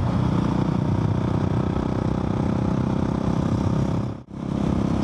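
A Husqvarna 701 single-cylinder motorcycle fitted with an Arrow exhaust roars steadily while riding, loud and close throughout, with a brief dip in the engine note near the end.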